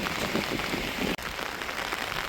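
Heavy windy rain in a village downpour pours down as a dense, even roar of drops on surfaces, with a steady, close wash of noise and a single brief dropout.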